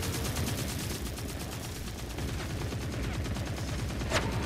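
Enemy gunfire in The Forever Winter rattles in dense, rapid bursts, a continuous loud volley of shots that fills the whole stretch, with one sharper crack near the end.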